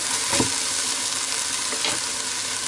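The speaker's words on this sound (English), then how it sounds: "I'm going to add in my coffee. And just deglaze or get rid of all those little burnt on bits down the bottom." Coffee poured into a hot chili pot to deglaze the browned bits on the bottom, giving a steady loud sizzle with two brief surges of bubbling, no voices.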